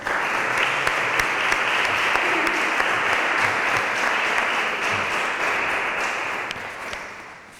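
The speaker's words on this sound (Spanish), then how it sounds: "Vamos a darle un aplauso" Sustained audience applause at a flamenco day event in Ojén, a steady dense wash of clapping from a sizeable crowd that holds evenly and then tapers off toward the end.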